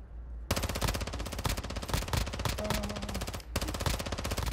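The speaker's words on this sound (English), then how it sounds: "Somebody else shooting at me." Loud, sustained automatic gunfire from a Call of Duty DMZ match set in Ashika, with rapid overlapping bursts that start abruptly, break briefly near the end, then resume close and dense.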